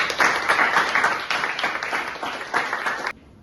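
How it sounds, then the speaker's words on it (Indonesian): Audience clapping in a room, a steady patter of many hands for about three seconds before stopping abruptly into quiet. "tepuk tangan teman-teman"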